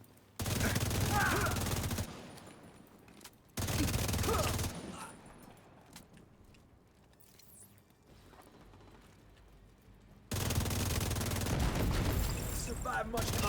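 Automatic turret fire in a video game rattles in loud, dense bursts of roughly two seconds, one near the start and another around four seconds, then a long sustained burst at the end, with quieter game ambience between.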